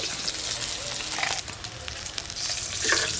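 Fish fries in hot oil in a home kitchen pan, a steady crackling sizzle that runs throughout, with occasional stirring scrapes and brighter spits, with no voice over it.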